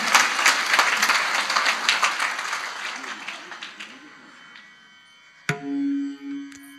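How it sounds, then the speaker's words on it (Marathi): An audience at a devotional kirtan gathering applauds in a bright burst of clapping that fades over about four seconds, followed by a short sustained tone. "या लेकरांसाठी एकदा टाळ्या वाजवा जोरदार"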